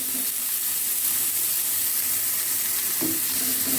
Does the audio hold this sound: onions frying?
yes